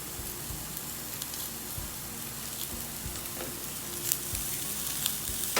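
Mixed vegetables sizzling and frying in a pan while being stirred, a steady close crackle broken by soft scrapes and knocks of the spoon against the pan, with no voices.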